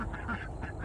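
Several ducks quack in short, overlapping bursts outdoors at a farm fence line, a busy, moderately loud flock chatter that runs through the whole brief moment.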